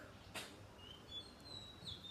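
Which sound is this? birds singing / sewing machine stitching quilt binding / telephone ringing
birds singing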